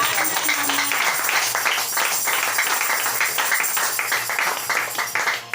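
Congregation applauding in church, steady rhythmic clapping from many hands, fairly loud and close, sustained for several seconds with light background voices.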